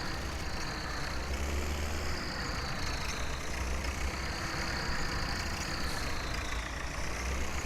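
A tractor engine in the video game Farming Simulator 17 hums at a steady mid-pitched drone while fertilizing crops, continuous and fairly faint, with no speech.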